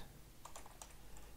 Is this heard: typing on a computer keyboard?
yes